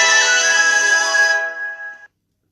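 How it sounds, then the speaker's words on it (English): Mobile phone ringtone chiming loudly and steadily in a sustained tonal melody for about two seconds, then cutting off abruptly into silence. "sorry, let me just put my phone on silent"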